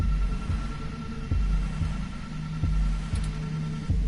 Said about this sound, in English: Your heartbeat is like sonar to me. The louder it pounds, the faster I race to stop it.